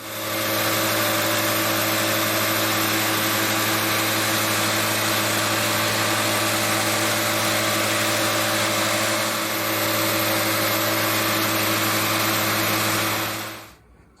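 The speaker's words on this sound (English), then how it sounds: "I'm going to start with taking these here and running the surface grinder over top of them" A surface grinder runs steadily over metal lathe parts: a continuous loud machine drone with a strong hum, holding even for most of the stretch before cutting off near the end, with no talk.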